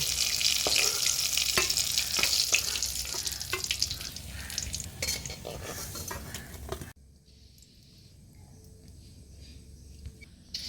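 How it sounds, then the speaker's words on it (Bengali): Jackfruit seed and prawn kofta frying in oil in a wok, a busy bright sizzle with crackles and stirring scrapes for about seven seconds, then dropping to a much quieter, thin hiss. "বেশ বাদামি রঙের ভাজা হয়ে গেছে এবার কোফতাগুলি কড়াই থেকে তুলে নেব"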